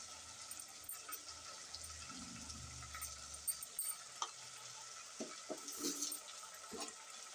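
Potato kurma being stirred in a pan with turmeric added, faint soft scraping and gentle bubbling sizzle with a few sharper clinks of a spoon near the end.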